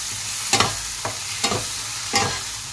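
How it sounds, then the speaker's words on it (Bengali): Masala spices frying in a pan for egg lababdar, a steady close sizzle broken by four sharp scraping stirs of a spoon against the pan. "এবার আমি মশলাটা ভালো করে ভেজে নেব।"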